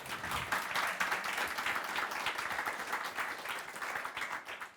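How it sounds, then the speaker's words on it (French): Sustained audience applause at a conference talk, a dense even wash of many hands clapping at moderate volume throughout, tapering slightly at the very end. "Merci pour les applaudissements"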